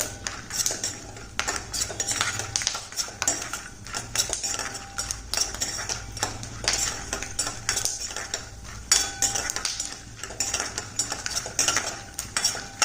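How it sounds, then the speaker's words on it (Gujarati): Nylon poha flakes dry-roasting in a pan over a medium flame for chivda, with a continuous busy rattle of spatula scraping and stirring against the pan, close and fairly loud. "મીડિયમ ફ્લેમ ઉપર જ આપણે એને શેકી લેવાના છે"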